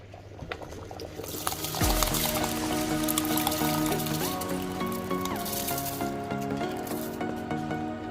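Washed basmati rice tipped into a cooking pot for Jamaican rice and peas, a steady pouring rush starting about two seconds in and continuing to the end over a sustained tonal background.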